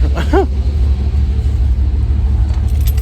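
An old Chevy truck engine idles with a steady, low, rumbling drone that stays close and constant throughout, with a brief chirping sound near the start.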